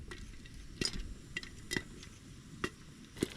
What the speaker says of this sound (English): And there they go, hear them pop them.